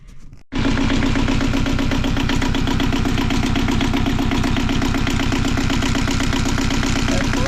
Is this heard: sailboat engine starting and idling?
yes